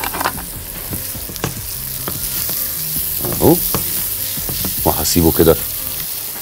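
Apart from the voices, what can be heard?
onions frying in oil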